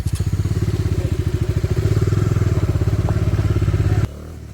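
A Bajaj Dominar 400 motorcycle rides along a road, its engine giving a steady, loud, rapid pulsing throb close by, with a brief rise in intensity before cutting away near the end.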